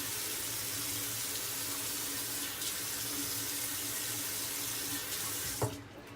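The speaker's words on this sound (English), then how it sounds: "let me add some water to the face here." Water runs steadily from a bathroom tap into a sink as the face is wetted before shaving, a constant soft hiss with a brief splash near the end, no talking.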